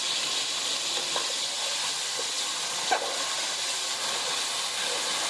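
Tomatoes sizzle in hot oil in a kadai for aloo anday, giving a steady, close, broadband hiss that runs unbroken, with a few faint clicks and stirring touches on top.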